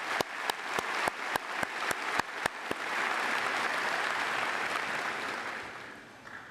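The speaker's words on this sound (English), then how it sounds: "Let's give a big round of applause." Applause at a university commencement ceremony rises from scattered sharp claps into a broad, sustained wash of clapping from a large crowd, fading slightly toward the end.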